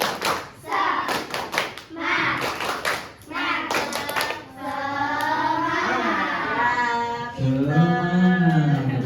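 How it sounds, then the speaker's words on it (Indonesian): A group does an Indonesian 'tepuk semangat' spirit clap in a quick rhythmic pattern, with bursts of sharp hand claps followed by loud chanting voices. "Ayo, gimana tepuk semangatnya?"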